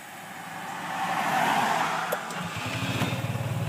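The engine of a Rover being ridden on a farm drones, swelling louder, then settles into a rough, pulsing idle-like chug up close.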